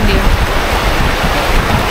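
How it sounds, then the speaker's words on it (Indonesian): Wind blowing across the Chompogho Bernam Outback Campsite near Tanjung Malim, a loud continuous buffeting rush with low rumbling gusts hitting the microphone. "Ui, angin."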